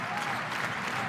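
Finnish home crowd at a FIBA World Cup European basketball game against Belgium, a steady wash of applause and cheering filling the arena, loud and continuous with no break.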